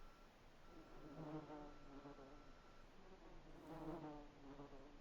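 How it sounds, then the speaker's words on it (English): Wasps buzzing near the player in the game Voices of the Void, a faint steady drone that swells and fades as they circle close. "Yeah, there's wasps near it."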